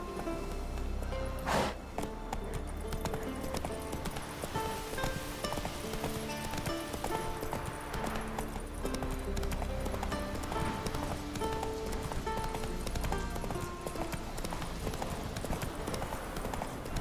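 Galloping horse in The Witcher 3 video game, a fast steady clip-clop of hooves running throughout over dense game music, with a single sharp whoosh early on.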